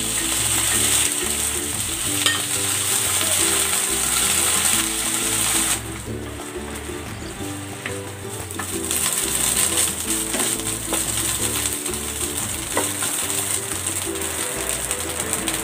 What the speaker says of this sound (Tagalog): Maglalagay ko ng cooking oil. Sasalang ko itong sardinas.